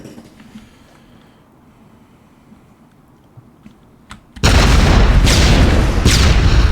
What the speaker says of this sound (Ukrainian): О, кулемет. МГ-43. Погнали.